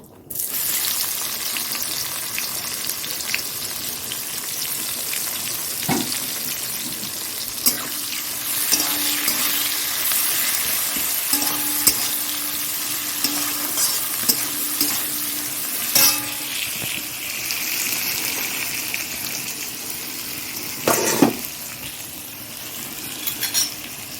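Onion frying in a pan produces a continuous crackling sizzle throughout, fairly close and even. Occasional soft clinks and scrapes of a spoon stirring sound against the metal.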